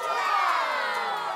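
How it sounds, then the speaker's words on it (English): A crowd in the Nikke video game cheers loudly and steadily, a dense wall of voices sustained without a break. "It garners a resounding cheer from the crowd."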